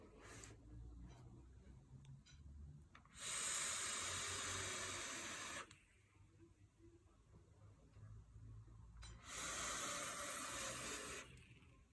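A clone GOON RDA vape with a single-wire coil is fired at 60 watts, giving two long, loud hissing bursts of several seconds each. Quiet background fills the gaps between them.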